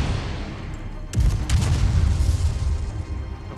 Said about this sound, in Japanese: なんかすげえ爆発してる。